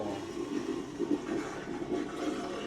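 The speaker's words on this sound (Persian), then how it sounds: "الان دکمهش رو زدم، اونجا رو نشون بدی فقط داره سیفون کار میکنه" A vacuum toilet flushing in a six-wheeled camper, a steady rushing swirl of water with a low motor hum from the macerator pump, continuous and fairly close.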